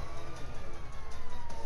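A police car siren wails steadily in GTA 5, cycling in a fast pulsing rhythm at a close, moderately loud level with no talk over it.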